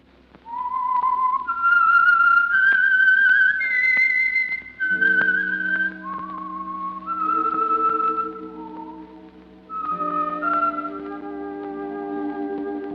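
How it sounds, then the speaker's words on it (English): Solo whistled melody, the theme of the radio show The Whistler, drawn out in long sliding notes, clear and close, with a low orchestral accompaniment joining partway and swelling underneath. "That whistle is your signal for the Signal Oil program, The Whistler."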